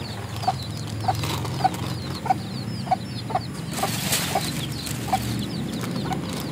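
Hens and newly hatched chicks in a backyard coop cluck in a steady series of short, sharp calls roughly every half second, with soft peeping chatter and rustling beneath.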